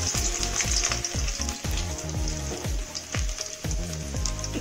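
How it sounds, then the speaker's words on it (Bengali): Chopped garlic sizzles steadily in hot mustard oil left over from frying cauliflower, a loud continuous crackle with repeated scraping stirs of a spatula against the pan, close and without talk. "দিচ্ছি রসুন কুচি"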